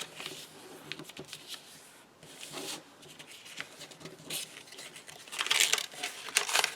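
Paper rustles and crinkles in soft, close bursts while being folded by hand into a journal pocket, with short quiet gaps between the handling sounds.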